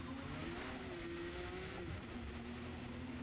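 A rear-wheel-drive car in the Forza Motorsport racing game accelerates hard, its tires squealing in a sustained whine over a steady engine drone, with no one speaking.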